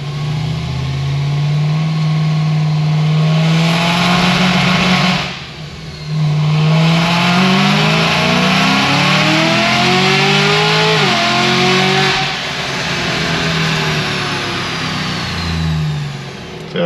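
An 850-horsepower Cadillac CTS-V on a cold full-throttle pull, its engine roaring loud and close as revs climb, broken by two distinct gear shifts, each followed by another rising surge.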